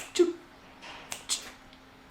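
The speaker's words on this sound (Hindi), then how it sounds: "चुटकी बजाना" A few sharp finger snaps, spaced unevenly, with one loud snap near the end of a quiet stretch; no talk.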